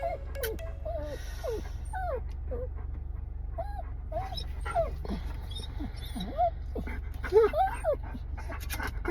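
Several dogs panting, whimpering and yipping close by, with frequent high whines over a steady low rumble and quiet talk in the background.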